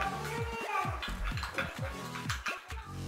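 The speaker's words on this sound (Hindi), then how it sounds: "अब हम इसे एक स्पून की हेल्प से अच्छे तरीके से मिक्स कर लेंगे" A spoon stirs a homemade face pack mixture in a small bowl, giving quick repeated scrapes and light clinks in an uneven rhythm, close up, with a voice faintly present.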